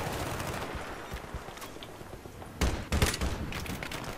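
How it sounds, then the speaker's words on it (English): Rocket launcher explosion in the video game Battlefield 3, a sudden loud boom and follow-up blast cutting through steady battlefield gunfire and combat noise. "Rocket launcher! Boom!"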